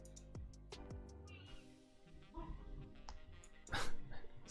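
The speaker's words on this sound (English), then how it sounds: "son's playing with my dog in the background" A pet dog barks and yips in short bursts while a child plays with it nearby, with whimpers and scuffling between barks and a louder burst near the end.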